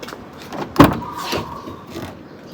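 The door of a 2015 Toyota Revo Smartcab 2.4J Plus pickup opens with a sharp, close latch click and thud, followed by softer mechanical rustling and faint creaks.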